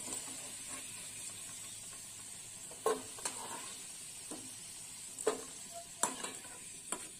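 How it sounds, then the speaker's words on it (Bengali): Potatoes fry in hot oil for a vegetarian chachchari, giving a faint, steady sizzle broken by several sharp spatula scrapes and clicks against the pan. "আলুটা ভাজা হয়ে গেছে, এবার আমি আলুটা তুলে নেব।"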